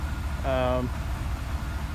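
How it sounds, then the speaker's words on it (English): A 1988 OBS truck engine idles low and rough, a steady deep rumble throughout, with someone briefly speaking over it. "You can hear it's kind of idling low."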